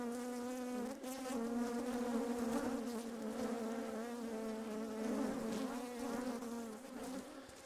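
Honey bees buzz steadily at a hive in an apiary being smoked, a dense, continuous droning hum with a wavering pitch, moderately close and with no talk.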